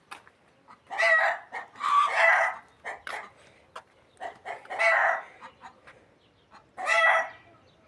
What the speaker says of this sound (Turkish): Tavukların çığırışına.